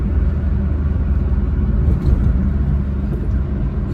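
A 1992 Fiat Uno with a five-speed manual gearbox pulls uphill in fourth gear, its engine a loud, steady low drone with road rumble throughout, close and unbroken.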